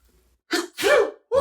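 One person sneezes up close: a quick sharp intake, then a loud explosive burst, followed by a short trailing sound.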